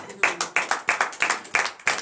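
A church congregation at a night deliverance and prophecy service in Comè, Benin claps in acclaim to Jesus, a close, steady run of sharp rhythmic handclaps in quick succession.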